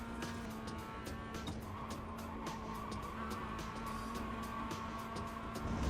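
Race car on a circuit, braking and cornering, with a steady engine hum, sustained tire squeal through the turn and repeated clicking noises over a constant background rumble.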